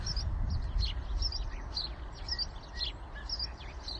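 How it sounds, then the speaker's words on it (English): Starlings chirp and whistle along the Trent and Mersey Canal near Stone, Staffordshire, a busy scatter of moderately distant calls over a steady low outdoor rumble. "we've got these nice starling sounds"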